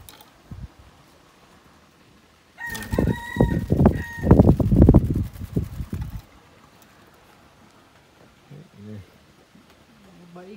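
Chickens, roosters and ducks kept at a hillside farm cluck and crow in a loud, dense burst lasting a few seconds, then go quiet, with a person talking faintly nearby.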